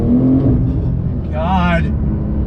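A 2021 Porsche 911 Turbo S brakes hard and downshifts, its engine note droning loudly and then blipping briefly upward, with an excited voice talking over the car.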